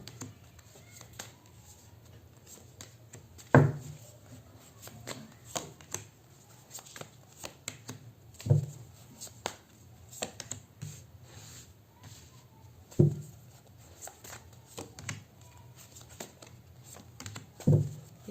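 Tarot cards being shuffled and handled at a table during a reading, with repeated soft riffling and tapping at irregular intervals and sharper knocks every few seconds, close and moderately quiet.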